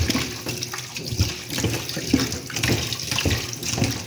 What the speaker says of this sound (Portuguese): Eu lavo ela só com água mesmo